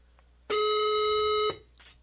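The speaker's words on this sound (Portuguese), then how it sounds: "Espera aí que tem alguém ligando" An incoming call rings a telephone once with a clear, steady electronic tone lasting about a second, loud and close, on a television talk show set.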